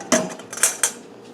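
Spoon clattering against a bowl while stirring a broccoli, bacon and raisin salad with vinegar and mustard, three or four sharp scraping clinks close by.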